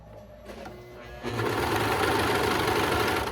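A sewing machine stitches fabric during a three-day crafting project; a few soft clicks lead into a steady, fast mechanical whirr that runs close and even to the end.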